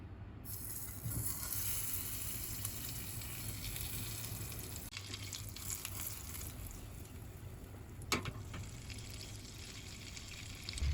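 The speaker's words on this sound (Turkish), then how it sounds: "Tavamızın içerisine bir yemek kaşığı tereyağımızı alıyoruz" Butter melting in a frying pan for Toyga soup, giving a steady, close broadband sizzle that runs evenly throughout with a brief sharp click near the end.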